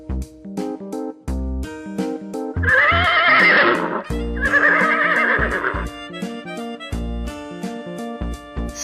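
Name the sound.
horse neighing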